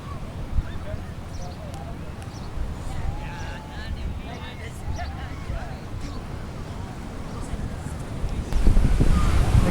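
Ocean waves washing on a beach, heard as continuous rumbling surf mixed with wind buffeting the microphone, swelling louder near the end.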